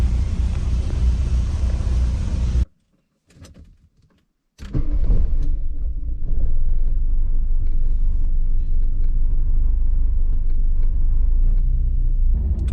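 A warm Porsche 924 2.0 automatic idling, a steady low engine rumble heard close up, briefly cutting out near-silent for a couple of seconds before the even idle resumes for the rest.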